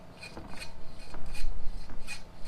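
Pipe cleaner scrubbing clogged exhaust tubes on a VW ALH diesel intake manifold, a series of quick rasping strokes in irregular rhythm, close and fairly quiet, with no talk.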